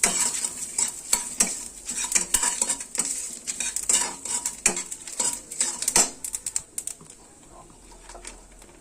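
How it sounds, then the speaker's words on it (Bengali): Bay leaf, dried red chili and panch phoron are stirred in hot oil in a kadai for a plum pickle. Crisp sizzling runs under rapid metal spatula scrapes and clinks, and the sound grows quieter and sparser near the end. "5 ফোড়ন দিয়ে একটু নাড়িয়ে নিলাম।"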